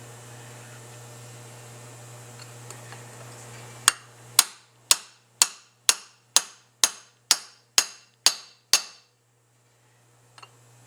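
A hammer drives an Airtex AC 263 part into place with about ten sharp, evenly spaced blows over a low electrical hum, and then falls silent.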